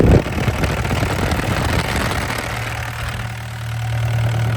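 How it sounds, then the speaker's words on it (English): A Yanmar diesel engine on a 2011 Bobcat E80 midsize excavator, said to run clean with no blow-by, idles steadily with a low, even rumble after a brief louder burst at the start. "Yanmar diesel."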